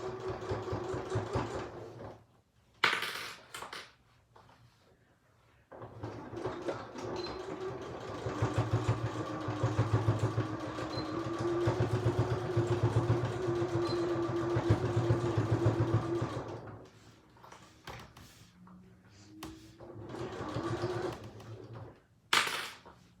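A sewing machine stitches around the edge of a fabric bag in several runs of varying length, its motor humming close by, separated by brief quiet pauses and small handling clicks.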